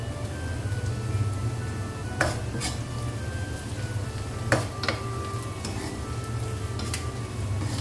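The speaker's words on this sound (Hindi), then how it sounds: "गरम मसाला जो हमने आपको दिखाया था वो डाल देते हैं ताकि अच्छा सा ये भी साथ में भून जाए" Steady sizzling of garam masala and onions frying in a pan, with a few sharp clinks of a utensil against the pan scattered through.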